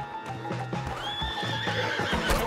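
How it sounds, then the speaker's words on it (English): A horse whinnies in the Red Dead Redemption 2 video game, a loud rising neigh with the clip-clop of hooves and saddle noise underneath, close and clear. "God, can you calm this horse down?"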